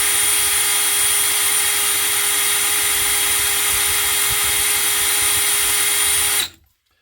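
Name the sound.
non-genuine SDS drill running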